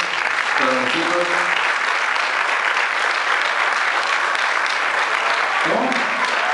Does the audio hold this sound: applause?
yes